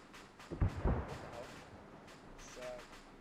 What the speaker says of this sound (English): There's an explosion that's over at the airfield.